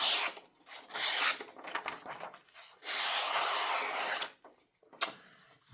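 A freshly sharpened YangGe YG005 folding knife blade slicing through material in a sharpness test, giving several close raspy cutting strokes with short pauses between them.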